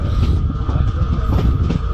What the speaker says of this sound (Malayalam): നമ്മൾ ശാസ്താംകോട്ടയിൽ നിന്നും ട്രെയിൻ പതുക്കെ പുറപ്പെട്ടിട്ടുണ്ട്